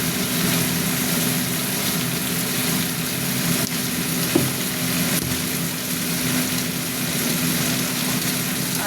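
Turmeric and chili powder fry in oil in a pan, a steady close sizzle with a low hum underneath, continuous and even with one small click midway.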